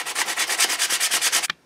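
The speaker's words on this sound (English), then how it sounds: "Then you can also sand down the edges of the frets" Fret edges on a homemade box string instrument are sanded smooth with steady back-and-forth rubbing strokes, about a dozen rhythmic close scrapes that end abruptly.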